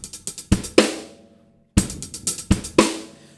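Drum kit groove from a lesson on a song, with kick drum, crisp sixteenth-note hi-hat and a sharp snare hit on beat three, close and loud, playing in two short bursts with a brief gap.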